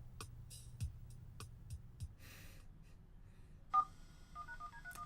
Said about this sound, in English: The VHS phone dial thing.